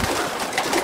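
A brief, soft cooing of pigeons close by, low throaty warbles over a murmuring background.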